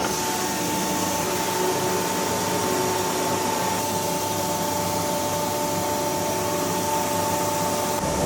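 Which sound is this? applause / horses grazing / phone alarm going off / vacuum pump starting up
vacuum pump starting up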